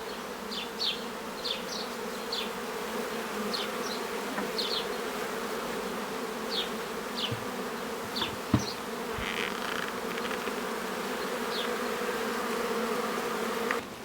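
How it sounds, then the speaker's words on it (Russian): Honeybees buzz around an opened hive, a steady loud drone of many wings with individual bees zipping close past in short whines, occasional thumps and handling noises, no talk. "Так, Сергей Викторович открыл улей"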